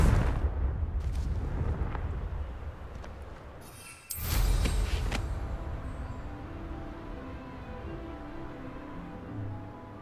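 A Confringo blasting curse in Hogwarts Legacy detonates in a single loud, sudden explosion midway through, set against a steady rumbling background that fades slowly after the blast.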